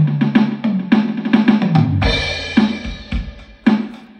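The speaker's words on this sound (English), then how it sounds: "I'm going to use this drum machine's drum beat" A Boss RC-3 Loop Station drum machine plays a 4/4 blues beat at 109 BPM: close, loud kick, snare and cymbal hits in a steady groove with no voices.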